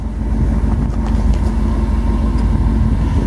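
Chevy truck fitted with Winter Force winter tires driving through snow in Michigan, a steady close engine drone with muffled crunching and rumble throughout, no voices.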